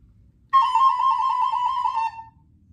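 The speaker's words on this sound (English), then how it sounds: "The recorder is going to play the mosquito" A recorder plays a mosquito part in a primary music lesson: one long, steady, thin held note lasting about a second and a half, clear and close with no talking.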